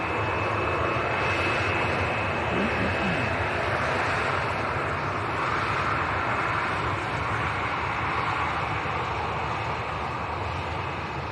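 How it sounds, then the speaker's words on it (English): A Jet2 airliner bound for Tenerife South takes off from Leeds Bradford Airport, its jet engines producing a loud, sustained broadband roar that holds steady for over ten seconds. "This is Jet 2 to Tenerife South."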